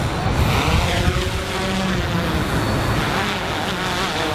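A camera drone taking off and flying outdoors, with a loud, continuous whirring buzz of spinning propellers close by and no talk.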